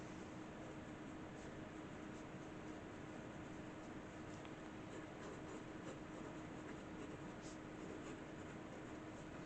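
A pen writing cursive on paper, a faint continuous scratchy scraping with small pen-stroke ticks, steady and close over a low room hum.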